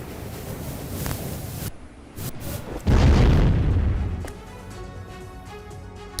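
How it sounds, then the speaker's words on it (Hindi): A Russian air strike explodes beside a bridge in Antonovsky: a deep, rumbling boom swells and rolls for over a second after scattered crackling pops, then fades into distant ringing noise. "और पुल के ठीक बगल में यह धमाका होता है।"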